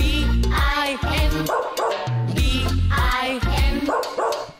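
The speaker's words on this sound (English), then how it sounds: "Was a farmer had a dog, and Bingo was his name." A cartoon dog barks repeatedly in a lively children's Bingo song about a farmer's dog, the yaps falling in rhythm with the bright, steady music.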